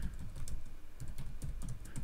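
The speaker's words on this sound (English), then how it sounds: "Why am I typing to nothing?" Fast typing on a computer keyboard during a live stream, a close, quick run of soft clacking keystrokes with no talk.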